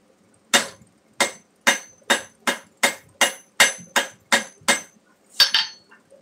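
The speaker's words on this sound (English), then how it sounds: "I flip this over and flatten it out a little bit so it sits flatter on the anvil." Steel is hammered on an anvil while forging a church key style bottle opener: about a dozen sharp, ringing metallic strikes at a steady pace, loud and close, with a final double hit.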